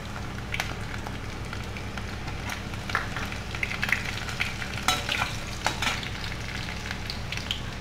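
Asafoetida, carom seeds and garlic frying in hot oil for a cluster bean dish, a steady close sizzle with scattered crackles and pops, no voices.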